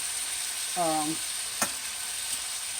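Large shrimp sizzle in a pan for shrimp fried rice, a steady close hiss of frying with a brief clatter of a utensil and a short voiced sound over it.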